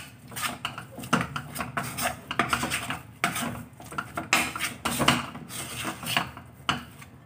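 A spoon scrapes and stirs a thick brown peda mixture with ghee in a pan for Mathura-style Janmashtami prasad: close, repeated clanking and rubbing strokes in an uneven rhythm, with no voices.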